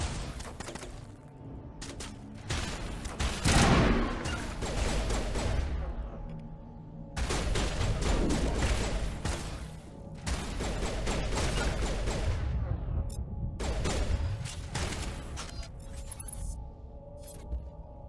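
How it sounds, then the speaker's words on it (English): Repeated bursts of gunfire aimed at the player in a sci-fi shooter game, several loud volleys separated by short pauses, with game sounds filling the gaps. "Why are you shooting at me?"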